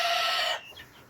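Fayoumi chickens on a small family farm give one short, loud cluck-like call that fades after half a second, with no voices.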